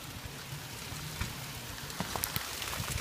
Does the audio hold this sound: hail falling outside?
yes